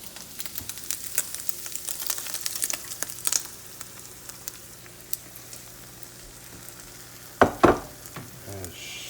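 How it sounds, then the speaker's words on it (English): Beaten eggs sizzle in a hot frying pan for a meat lovers frittata, a soft steady fry with scattered stirring scrapes, then a louder clatter of utensil on pan near the end. "And stir that around a little bit. Get an egg on everything."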